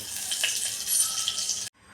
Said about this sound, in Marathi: इथे मी कुकर गरम करायला ठेवले आहे त्यात जिरे घालून घेऊया तेल पण घातलेलं आहे